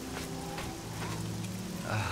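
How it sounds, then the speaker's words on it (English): Steady rain in the fantasy video game Oblivion, a continuous even hiss of drops on surfaces with faint scattered taps, holding at an even level for the whole stretch with no talking. "Is it really still raining?"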